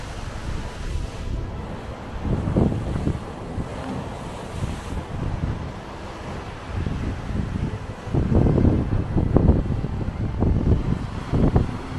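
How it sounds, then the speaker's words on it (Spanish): Sea waves surging into a coastal cave below a clifftop in Burela, Galicia, heard as repeated deep rumbling swells rising and falling, mixed with heavy wind buffeting the microphone. "el mar ahí abajo"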